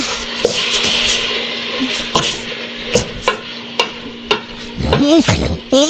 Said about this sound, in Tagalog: Ngayon naman po ay inalagay natin ang meat. Ating haluin.